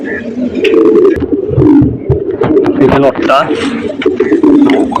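Male pigeons, a Patta cock among them, coo loudly and repeatedly in a close loft, their throaty rolling calls overlapping with someone talking throughout.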